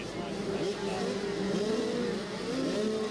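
Race car engines idle and blip in a pit area at an off-road racing event, a rough, fairly quiet mechanical drone with uneven revs rising and falling, heard at a distance and not loud.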